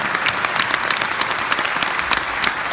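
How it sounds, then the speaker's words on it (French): Audience applauding at the opening gala of a French magicians' congress, steady dense clapping throughout, loud and close with scattered sharper claps and no talk. "Merci d'applaudir tous ces présidents FAP des 50 derniers congrès."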